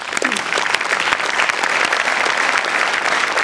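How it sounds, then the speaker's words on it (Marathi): A studio audience at a Marathi comedy show claps loudly and continuously, a dense close burst of applause that holds steady for the whole few seconds. "या सामाजिक जाणीवेबद्दल मला खूप टाळ्या वाजवायच्या वाटतात."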